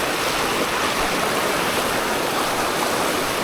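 Steady rushing water fills the clip, a dense, even roar of a flowing river with no voices or breaks.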